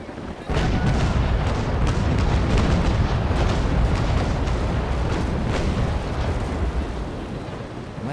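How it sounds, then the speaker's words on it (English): A ship's cannons in the naval battle game Naval Action fire all at once, a broad, loud rumbling barrage that swells suddenly and rolls on for several seconds before slowly easing off. "to fire them all at once because I'm in the right place now"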